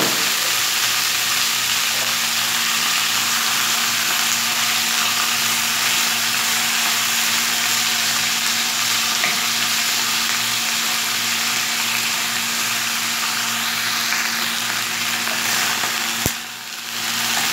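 Meat sizzles steadily in a hot pan greased with a small knob of butter for a pot kebab with onion, tomato and pepper, a loud continuous frying hiss throughout with a brief stir near the end.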